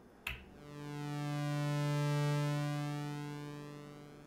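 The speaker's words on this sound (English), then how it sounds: "you'll hear it move from a very thin sound to the full sound and then back again." Behringer Crave analog synthesizer holding one sustained note while its pulse width sweeps from a thin, nasal tone to a full, hollow square and back, opening with a click and swelling then easing in level, alone.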